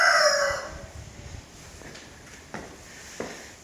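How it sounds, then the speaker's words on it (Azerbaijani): A neighbour's rooster crows loudly and close by at a house in Khirdalan, its call opening the moment and then fading into quiet outdoor background with a few faint knocks. "Qonşunun xoruzu da var."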